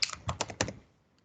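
Quick burst of computer keyboard keystrokes typing a command, several close, crisp clicks in the first second, then a single faint tap.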